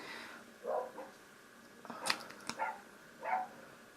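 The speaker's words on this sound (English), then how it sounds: "If you hear my dogs barking" A few dogs bark in short, separate yips and woofs at a distance, spaced unevenly across a quiet indoor background.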